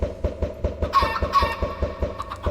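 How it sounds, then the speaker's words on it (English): Chickens in a Minecraft automatic farm clucking, repeated short clucks in a quick regular rhythm over a rhythmic mechanical thumping, with a couple of brighter squawks in the middle. "Chickens go in the top here."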